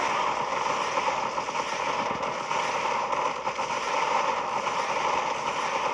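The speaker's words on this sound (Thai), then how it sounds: "นี่ได้ยิงอยู่นะ" Gunfire from the Zombie Defense video game rattles continuously as a dense, loud crackling barrage with no pauses and no voices over it.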